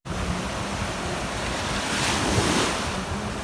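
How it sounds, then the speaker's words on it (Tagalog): Sea waves wash steadily onto a beach of white and brown sand, a continuous broad surf roar with wind buffeting the microphone, swelling slightly toward the end. "Tapos yung dagat umaalon."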